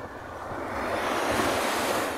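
Strong ocean waves crash and roll steadily onto a beach, a continuous loud surf roar with wind buffeting the microphone and no voices.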